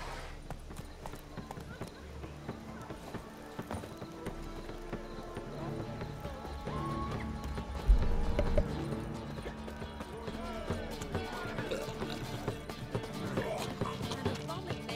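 Roach, the horse in The Witcher 3: Wild Hunt, galloping: steady rhythmic hoofbeats of a close clip-clop run throughout, with a heavier thud midway, under game music and voices talking.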